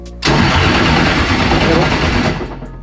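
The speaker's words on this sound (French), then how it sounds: "Là, il y a du régime moteur." A car engine cranks and catches, then runs with loud, steady revving that tapers slightly near the end, heard close up after repeated attempts to get it started following wiring checks.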